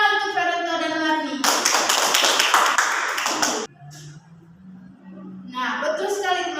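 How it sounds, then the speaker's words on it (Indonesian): Children in a primary-school classroom give a short burst of clapping for two classmates, a few seconds of crisp, close hand claps that cut in between a teacher's sung or drawn-out speech. "Tepuk tangan untuk Feranto dan Marni."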